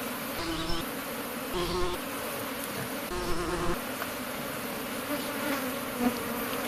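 Honey bees buzz busily close around an opened Kenyan top bar hive after a honey harvest, a continuous droning hum with wingbeats rising and fading as individual bees pass near.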